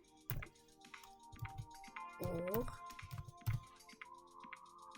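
Computer keyboard keys click in scattered quick taps during a coding lesson, heard close under a voice that talks throughout.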